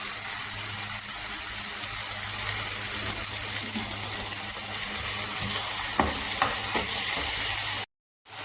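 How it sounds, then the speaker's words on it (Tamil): Ginger garlic paste frying in hot oil gives a steady, close sizzle with a few sharper spatters and stirring scrapes near the end. It stops abruptly just before the finish. "இப்போது இஞ்சி பூண்டு பேஸ்ட்டு போடுறேன்"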